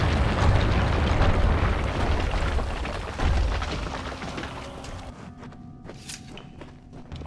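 A bomb goes off in the action RPG Kingdoms of Amalur, a loud rumbling blast with a second heavy thump that slowly fades into quieter game ambience.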